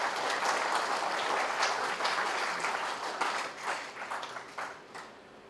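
Audience applause at a memorial lecture, a steady wash of many hands clapping that thins out into scattered, separate claps near the end.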